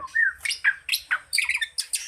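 A white-rumped shama sings a quick series of clear whistles and bright chirps, rising and falling notes close by, with no other sounds.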